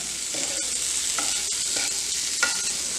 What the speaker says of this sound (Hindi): हल्की गैस पे जो है हमने इसको 2-3 मिनट के लिए भूनना है